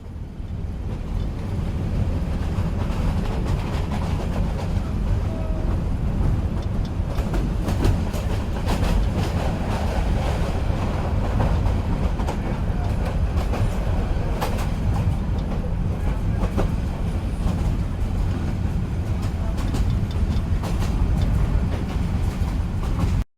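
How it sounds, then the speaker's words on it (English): A passenger train on a service to Edinburgh via Berwick-upon-Tweed rumbles steadily along the rails, a continuous loud low roar with faint rhythmic clatter throughout, no voices over it. "This train has 9 coaches."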